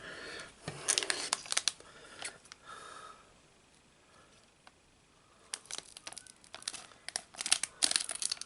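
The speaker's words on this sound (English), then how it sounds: "I think I'm going to have to cut them, so I'll need my scissors" Scissors snip and crinkle through plastic Lego Muppet minifigure bags, with close, sharp bursts of crackling plastic at the start and end and a quieter stretch in between.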